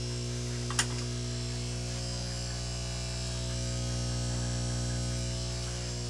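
An inline pump draining water from a discus fry aquarium through a siphon gives off a constant electric hum and buzz, steady and unchanging throughout, with one brief faint click near the start.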